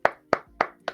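Four sharp hand claps at an even, quick pace, close and fairly loud, with nothing else around them.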